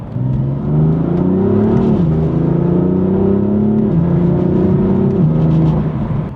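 A BMW M4 with an upgraded intercooler accelerates hard, its engine droning loud and close with rising pitch through several gear shifts.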